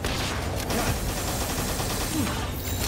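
Gunfire aimed at a Jetragon in the game Palworld, a dense continuous burst of rapid shots over a loud busy background, with no voices.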